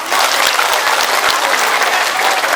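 Loud, dense applause from the congregation at a pengajian religious gathering in Masjid Miftahul Jannah, Teluk village, Labuan, many hands clapping close and continuous throughout.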